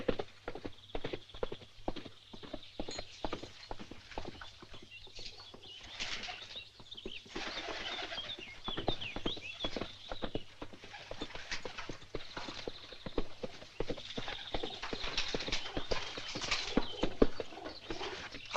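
Horses' hooves clip-clop steadily in a dense, rhythmic patter, close and continuous, with faint bird flutter and chirps mixed into the background.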